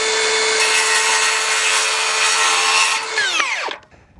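A Skil circular saw cuts through plastic with a loud, steady high-pitched whine and rasp for about three seconds, then spins down and trails off sharply as the cut ends.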